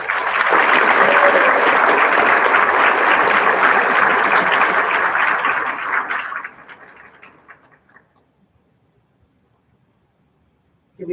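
An audience at an 8th grade graduation gives students a loud, sustained round of applause, many hands clapping densely for about six seconds before fading away to near silence.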